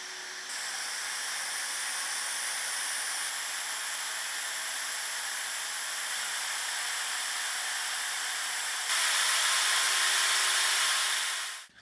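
A Hush portable fan running in turbo mode gives a steady, loud, hissing whoosh of airflow that holds evenly for many seconds, stepping up slightly near the end before cutting off.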